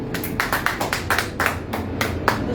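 A church congregation claps during a worship service, roughly a dozen sharp claps in an uneven rhythm, close and moderately loud with no voices over them.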